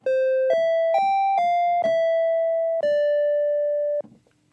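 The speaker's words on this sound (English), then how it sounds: "the triangle," A synthesizer triangle wave plays a mellow tone, slightly brighter than a pure tone, in a six-note tune with distinct steps and a longer final note.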